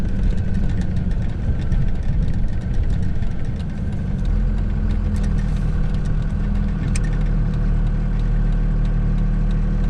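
Truck engine idling while warming up after a transmission swap, a steady low rumble with a constant droning hum close by, running evenly without revving.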